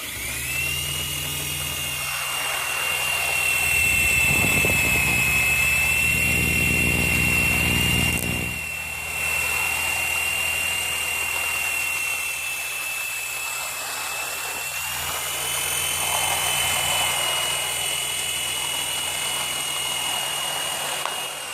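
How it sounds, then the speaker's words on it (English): A camera drone whines with a high, steady propeller buzz that swells and fades as it flies over a model railway, continuous and fairly loud throughout. "you're going to hear some drone noises as well"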